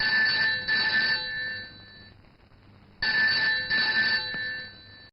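A telephone rings in two long bursts separated by a short pause, a loud, clear electronic trill in a tense scene from a Hindi-dubbed South Indian action movie.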